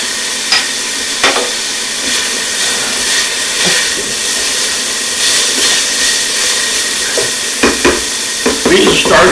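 Chopped rosemary and minced garlic sizzle steadily in a hot pan, a loud continuous frying hiss broken by scattered spoon clinks and scrapes, growing busier toward the end.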